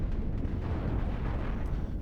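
A flak cannon explodes in a video game, giving a dense, rumbling blast that fills the short stretch at steady loudness with no talk over it.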